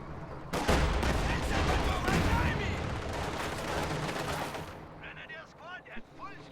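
An anti-tank gun fires in a strategy video game amid a dense, loud barrage of gunfire and booms lasting several seconds, then thinning out to scattered sounds.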